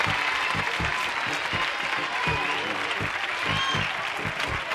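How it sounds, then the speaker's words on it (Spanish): TV studio audience applauding a magician on a 1992 game show, continuous loud crowd clapping with lively music or cheering underneath throughout. "le dais un fuerte aplauso a nuestro mago"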